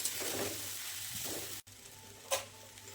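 Sabudana khichdi being stir-fried in a pan gives a quiet sizzle with soft stirring scrapes, broken by a sudden brief cutout and then one sharper clatter of the utensil against the pan.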